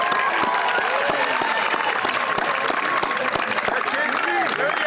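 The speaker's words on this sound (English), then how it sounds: "One more time, a round of applause for our chorus and our band tonight." Audience applause at the Millis High School Class of 2024 graduation ceremony, a steady dense clapping from a large crowd lasting throughout, with scattered voices and cheers mixed in.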